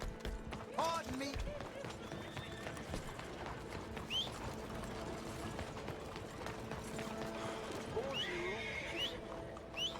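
Horse hooves clip-clop at a steady gallop while a horse neighs a few times, with game-style background sound throughout, in Red Dead Redemption 2 on PC.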